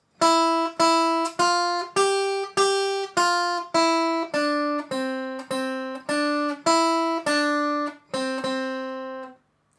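A plucked guitar plays Beethoven's Ode to Joy, about a dozen evenly spaced, ringing notes, the line dropping lower toward a closing second-ending phrase; clear, close and solo.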